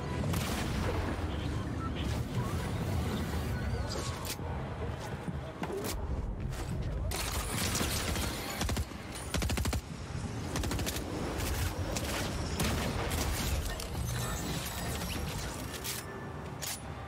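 Shooting in an online video game, with dense bursts of gunfire and heavy impacts filling the whole stretch, overlapping with game noise and a voice talking over it.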